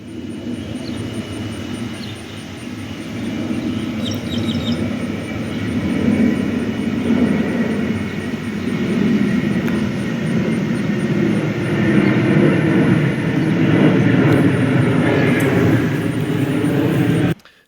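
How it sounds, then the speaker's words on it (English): A presidential doomsday plane flying overhead above eastern Nebraska, a broad, continuous low engine roar that swells and holds steady for the whole stretch, heard outdoors with no speech. "here we have a presidential doomsday plane that was airborne over eastern Nebraska as well"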